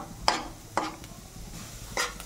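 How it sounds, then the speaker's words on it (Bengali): Moong dal being stirred as it dry-fries in a pan: three sharp scrapes of a utensil against the pan, spaced roughly half a second to a second apart, over a quiet background with no talk. "বন্ধুরা, ডালটা একটু নাড়াচাড়া করতে হচ্ছে, কারণ মুগ ডাল একটু সময় লাগে।"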